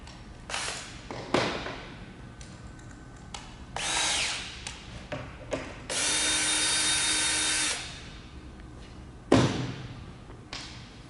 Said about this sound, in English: Now we need to remove the polycord screw that's securing the fabric onto the roll tube.